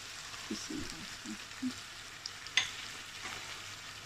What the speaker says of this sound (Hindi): अब इसको इधर थोड़ी देर के लिए भूनते हैं इंशाल्लाह, 2 से 3 मिनट के लिए।